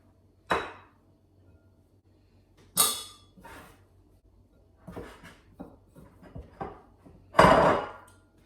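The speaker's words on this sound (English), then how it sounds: "Now we're going to stir this together." A spoon stirs soft Latvian honey cake dough in a bowl, making a few sparse knocks and scrapes against the bowl between stretches of quiet, with one louder scraping clatter near the end.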